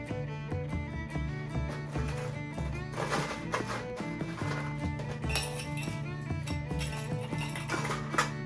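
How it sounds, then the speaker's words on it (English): A double old fashioned glass clinks and knocks in brisk, repeated contacts during cocktail making, close and clear over steady background music. "So now we're going to grab our double old fashioned."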